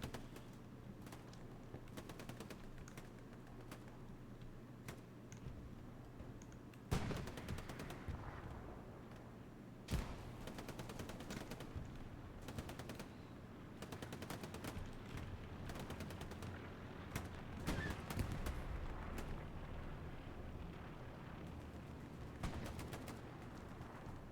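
Bursts of submachine-gun fire from an M3 grease gun in a competitive World War II shooter match, scattered sharp volleys and distant gunfire over a constant game ambience, with no talking.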